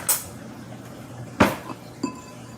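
A whisk clinks as white chocolate chips are knocked out of it while baking a peppermint pie, giving three separate sharp metallic taps spaced apart over a quiet room background.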